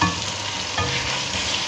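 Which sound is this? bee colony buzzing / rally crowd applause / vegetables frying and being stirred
vegetables frying and being stirred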